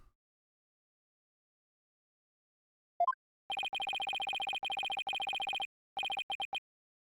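A telephone rings somewhere outside in repeated bursts of electronic trilling, clear and moderately loud, with a short chirp before the ringing starts and no talk over it.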